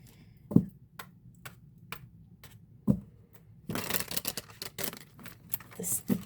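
Knuckles rap a tarot card deck in a few sharp, isolated knocks, followed by a quick flurry of card handling and shuffling, all quiet and close.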